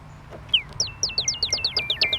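Synthesized whistle patch in Ableton Live, a run of about a dozen short bright downward-gliding chirps in quick, fairly steady rhythm, resembling small birds, close and clear with no talk.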